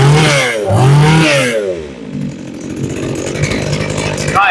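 A used Japanese brush cutter's small two-stroke engine revs up loudly twice, then drops to a buzzy, rattling idle, with a voice heard faintly over the running engine.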